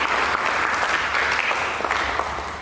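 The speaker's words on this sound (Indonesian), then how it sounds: "Mari kita berikan tepuk tangan bagi Yesus." A church congregation applauds during a worship service, producing a continuous, dense wash of clapping at a steady, fairly loud level throughout, with no pauses.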